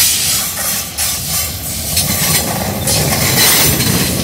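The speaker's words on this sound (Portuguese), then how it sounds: "Vocês viram como o trem da VL subiu, né? Agora olha a descida" A VLi freight train descends the Serra do Mar, a loud continuous rumble of rolling wagons with hissing brakes and faint rhythmic rail clatter, close by and without speech.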